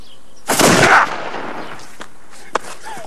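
Loud black-powder firearm blast from the era of the 1532 Spanish conquest, one sharp booming report with a short rumbling tail, then a fainter crack moments later against a quiet background.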